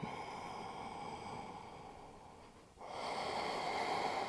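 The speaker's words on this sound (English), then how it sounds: "Breathing deeply through the center." Deep breathing during an advanced yoga practice: a long, slow exhale through the nose tapers off, followed by a fuller, breathy inhale, close and soft with no talk.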